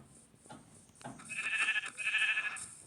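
Sheep bleating in a video game, a few short quiet bleats early, then louder drawn-out bleats in the middle and end, with no talking.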